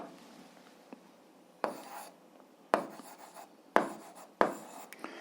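Pen strokes on paper as a math fraction is written by hand, a quiet scratchy stroke or two followed by four sharper, louder scrapes spaced about a second apart, close and alone without talk.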